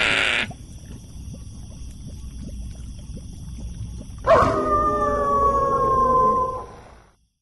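A spooky howl sound effect rises sharply partway through, loud and drawn out over a low rumbling bed, then fades to silence, following a brief shrill tone at the very start.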